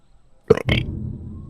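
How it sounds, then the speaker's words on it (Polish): A single loud, close burp from a man, a short throaty burst followed by a lower rumbling tail that fades out. "Bekłem."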